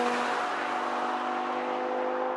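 A Lamborghini Gallardo engine drones steadily at low revs, loud and even, with no rise or fall in pitch.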